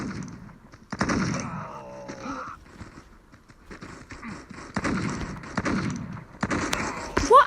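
Shotgun blasts from the mobile shooter game Guns of Boom, fired in short separated bursts at moderate volume over a quiet in-game background, with a few thumps between shots.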